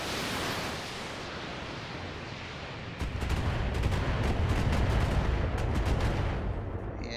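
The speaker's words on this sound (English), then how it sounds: "the missiles are opening the center torso of that Vindicator" Missiles pounding a mech in the video game BattleTech: a dense roar of noise that turns heavier midway, then a rapid string of crackling impacts, loud and continuous.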